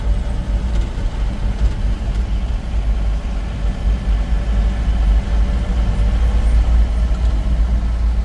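A car without power steering drives along, its engine giving a steady low rumble and drone from inside the vehicle, with no talking.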